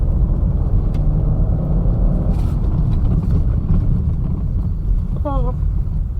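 A Peugeot 406 Coupe V6, converted from automatic to manual, is driven hard on a road, giving a steady loud engine and road rumble with wind buffeting throughout and a brief squeak near the end.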